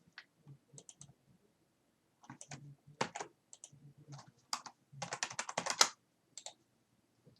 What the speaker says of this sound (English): let me go ahead and type in .6 and .6.